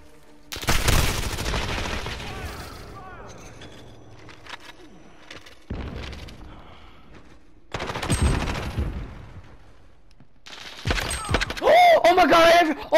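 Bursts of rapid gunfire in the Modern Warfare video game, several loud volleys separated by pauses, with an excited player's voice talking over and between the shots.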